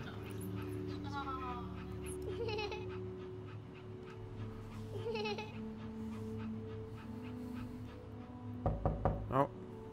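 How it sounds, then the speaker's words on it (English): Knocking on a door in the video game That Dragon, Cancer: a quick cluster of several knocks near the end, standing out over steady game music and dog whimpers, with a person talking over it. "Oh, someone's knocking."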